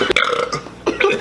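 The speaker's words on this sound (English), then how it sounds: "This is just a burping challenge now." A loud, close burp rumbles out during a burping challenge, a short guttural belch followed by a second smaller one, with a bit of voice around it.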